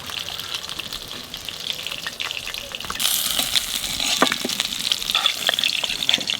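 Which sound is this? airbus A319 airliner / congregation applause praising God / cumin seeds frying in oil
cumin seeds frying in oil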